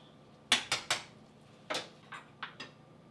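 Metal tongs clink against a pot while moving fresh spaghetti around: three quick clacks, a pause, then four more scattered taps, close and crisp.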